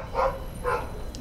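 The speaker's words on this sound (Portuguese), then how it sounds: "meu cachorro não para de latir" A dog barks twice indoors in the background, with two short, moderately loud woofs about half a second apart over a low room hum.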